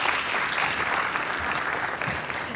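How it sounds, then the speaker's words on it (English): An audience applauds panelists at an annual health forum, giving steady, dense clapping that stays loud and even from start to finish with no voices above it. "So give a round of applause for these panelists,"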